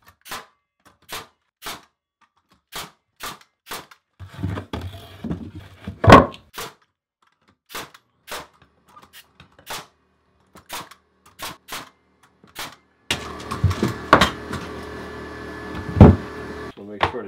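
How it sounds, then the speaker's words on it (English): Pneumatic nail gun fires repeated sharp shots into wood framing for a shower bench seat, roughly one every half second to second, with a louder burst of activity midway and a closing stretch under background noise. "I'm just gonna use my nail gun."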